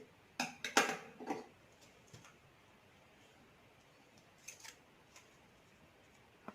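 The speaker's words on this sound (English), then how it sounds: "then take one flower, then cut it here" Scissors snip a paper flower in a quick cluster of sharp, close cuts near the start, followed by quieter scattered clicks and handling sounds.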